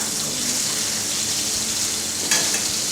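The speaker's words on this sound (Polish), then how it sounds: "Także na wolnym bardzo ogniu to smażymy." Meat frying slowly over a very low flame in a pan while a sauce reduces gives a steady, soft sizzle throughout, with a brief clatter near the end.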